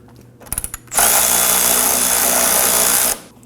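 A power tool with a 19mm socket spins off the bottom nut of a front sway bar link on a 2011-2016 Kia Optima, a few quick clicks then a loud, steady two-second whir that stops abruptly.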